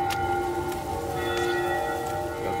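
Bells ringing in the video game The Walking Dead: Saints and Sinners, a sustained metallic chime with several clear overlapping tones and soft strikes, steady and fairly close over a noisy background.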